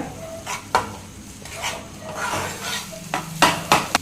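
A spoon stirs broken egg into masala in a pan while cooking goat brain fry, with scraping, soft sizzling and a few sharp clinks of utensil against the pan.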